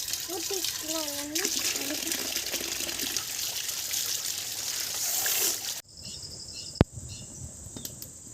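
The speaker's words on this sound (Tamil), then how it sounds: "தண்ணி வந்துக்கலாம்னு ஊற்றிக்கலாம்." Water is poured outdoors during a village night meal of palm tuber, a steady splashing wash over cricket-like chirps, with a voice talking briefly near the start, then it stops and a sharp knock follows.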